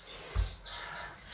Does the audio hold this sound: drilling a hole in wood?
no